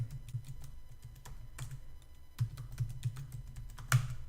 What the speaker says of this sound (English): It will ask me for a password. I'm gonna type something in.